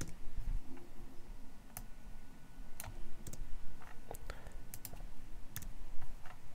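Keys on a computer keyboard clatter in quick irregular bursts as code is typed, fairly close and moderately loud over a low room hum.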